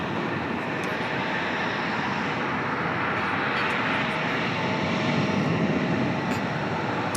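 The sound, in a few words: airplane landing at Dulles airport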